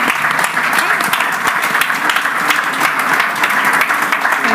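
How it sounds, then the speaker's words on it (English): Conference audience at a Hellenic business angels summit gives panelists a loud, steady round of applause, dense clapping with a few voices mixed in. "Big applause."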